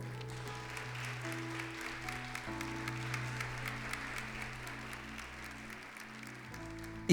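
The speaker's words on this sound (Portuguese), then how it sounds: "Isso você pode aplaudir o Senhor?" A congregation at a church service claps at a moderate level, scattered hand claps ringing over sustained organ or keyboard chords that shift throughout.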